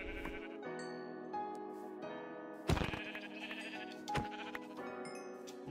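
Sheep in the game Minecraft bleat over steady background game music, several close bleats with a sharper burst near the middle and another toward the end.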